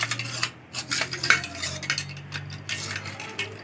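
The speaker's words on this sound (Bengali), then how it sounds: "আমার ছেলে ওইদিকে চামচটা দিচ্ছে না, তাই খুন্তির পেছন দিকে দেখুন এভাবে নাড়িয়ে নিলাম।" Carrot juice stirred with the back of a metal spatula in a vessel, with soft repeated clinks and scrapes of utensil against the container, close and fairly quiet.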